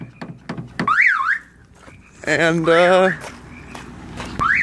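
A wavering electronic Mitsubishi Mirage car alarm wails in bursts, with someone talking between and over the tones, fairly close.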